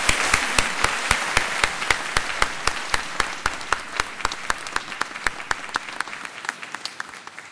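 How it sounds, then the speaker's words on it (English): Audience applause at an official building opening ceremony, a sustained round of clapping from a room full of people, with crisp claps standing out as it slowly eases over several seconds. "applause."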